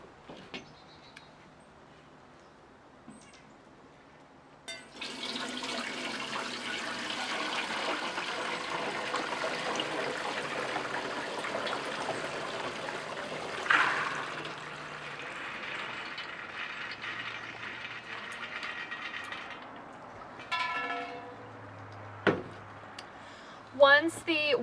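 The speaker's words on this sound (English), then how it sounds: "I am going to pour my beans and water over it" Black beans and their water pour through a strainer set over a pot, a long steady splashing rush for several seconds that thins into trickles, followed by a few clanks and brief talk.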